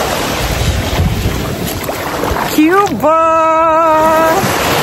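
Sea waves wash steadily at a beach amid gusty wind, a continuous broad rush under a loud shouted word near the end.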